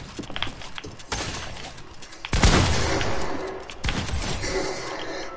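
Gunfire in a box fight video game, a series of sharp shots and a heavy loud burst, with a trailing rattle, close and dominant.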